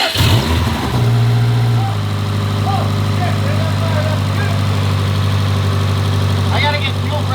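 A built big-turbo Subaru WRX STI engine fires up for the first time, catching with a quick rise in revs, then settling into a loud, steady idle close by while people talk nearby.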